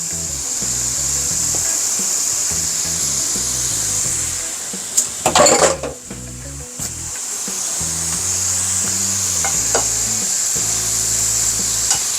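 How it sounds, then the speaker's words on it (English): Pork frying in a pan for Filipino sinigang, a steady soft sizzle throughout beneath a looping background music track, with a brief louder clatter of the meat being moved partway through. "So I am going to fry this a little bit."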